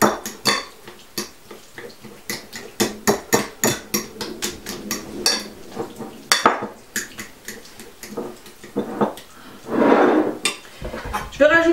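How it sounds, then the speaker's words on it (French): Avocado sauce with spirulina and lemon juice being mashed and stirred in a bowl, a steady run of close, sharp utensil knocks and scrapes against the dish, with a louder wet churning burst near the end. "j'écrase et je mélange en même temps."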